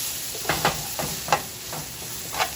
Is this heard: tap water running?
no